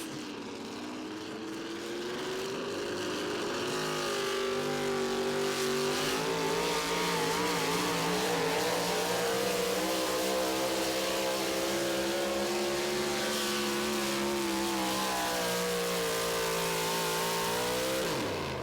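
Pulling truck with a Sonny's Automotive engine at a 2023 truck pull in Tomah, Wisconsin, revving hard and roaring loudly for the full run, its pitch rising and wavering with wheel hop near the end.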